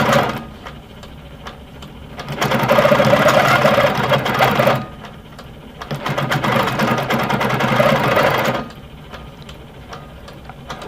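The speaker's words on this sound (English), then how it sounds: "Notice in cruise mode, my needle's moving even when I'm not moving the fabric." A Handi Quilter Amara longarm quilting machine stitches in cruise mode, its needle whirring in two loud, steady bursts of several seconds each, separated by quieter idle hum, close by and with no talking.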